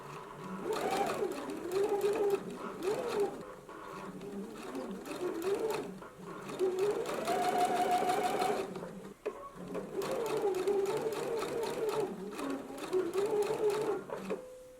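A sewing machine stitches a seam for a McCall's M8312 garment, running in steady bursts of rapid, even needle clatter that pause briefly and restart, close and continuous.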